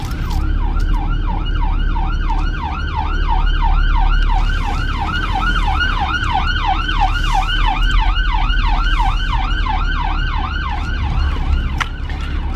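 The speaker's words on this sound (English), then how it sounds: "Just making way for the ambulance to go through." An ambulance siren wails in a rapid, rising and falling yelp, loud and steady over rumbling traffic as it goes by.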